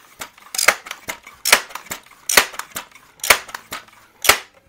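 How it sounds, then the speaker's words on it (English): Crosman M4-177 pump air rifle fired after 5 pumps: about six sharp, close cracks spaced roughly evenly, each trailed by short clicks and handling noise, with no talking. "I'm going to do 2 shots with each with 5 pumps"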